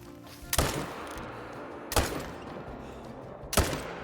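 Three loud, sharp gunshots ring out in a shooting video game, spaced more than a second apart, each with a brief echoing tail over a low background hum.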